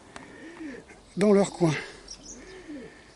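Pigeons coo softly in a couple of low, rolling calls at the start and end, while someone speaks briefly in French between them.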